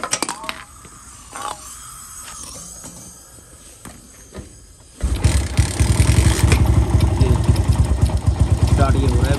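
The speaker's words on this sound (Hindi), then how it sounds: "स्टार्ट करके दिखा दूँ मैं आपको।" A Bajaj Boxer motorcycle with a carburettor fault, stripped down for a cafe racer conversion, is kicked over and fires up, then settles into a loud, steady close idle; someone talks briefly before the start.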